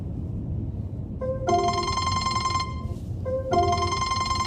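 A telephone rings for an incoming call with two bright electronic ringtone bursts, each lasting about a second and a half, over a low background murmur, with no talk.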